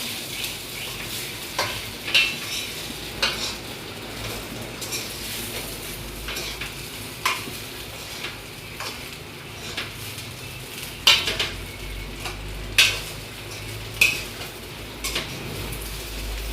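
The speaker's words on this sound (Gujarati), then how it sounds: "સરસ તેલમાં મિક્સ કરી લઈએ." Spices get stirred into hot oil in a pan for a vegan bottle gourd dhokla dish, with a soft steady sizzle punctuated by sharp metal spoon clinks and scrapes against the pan at irregular intervals, no voices.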